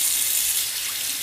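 Water running steadily from a household tap on a system with a recirculating pump and bridge valve, a continuous bright hiss of flowing water, close and fairly loud throughout.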